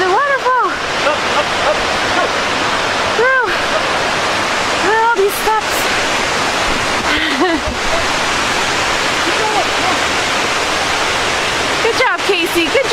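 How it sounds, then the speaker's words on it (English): A waterfall roars in a constant, loud rush of water throughout, with a voice speaking briefly over it. "You can see the waterfall."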